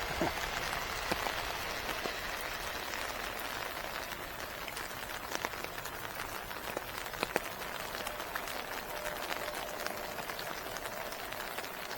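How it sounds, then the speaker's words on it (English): Steady rain falls straight down onto a pool beside a car park, a dense, even patter and hiss of drops on water and ground lasting throughout, with no other sounds standing out. "the rain's coming down vertically, not at an angle"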